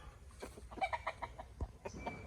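Roosters kept as fighting cocks at a house construction site in the Philippines cluck in a few short, repeated calls close by, with no voices over them.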